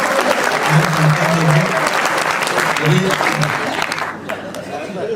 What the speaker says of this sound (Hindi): एक बार झोंक के तालियां बजा दो